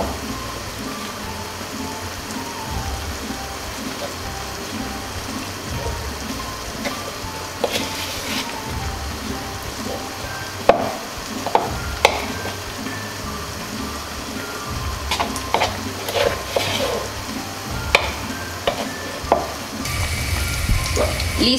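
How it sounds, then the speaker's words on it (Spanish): Small flour-coated chicken pieces fry in hot oil for orange chicken. A steady, dense sizzle runs throughout, with occasional crackles, pops and utensil clinks. "ya previamente el aceite caliente, vamos a proceder a fritar nuestros trocitos de pollo"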